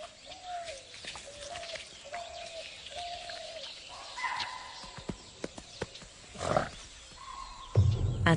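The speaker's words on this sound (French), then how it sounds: "Soudain, un cri d'alerte les perturbe." Herbivores in the Indian wild give repeated tonal alarm calls as a Bengal tiger approaches, sharp evenly spaced cries that are fairly close. Scattered clicks and calls follow, then a low, rough rumble swells at the end.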